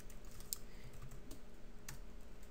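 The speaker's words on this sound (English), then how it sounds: "the way we do that is we type this tiny little piece of code" Quiet, steady clicking of keys on a computer keyboard as code is typed, a continuous patter of light keystrokes with a few sharper taps, alone and faint.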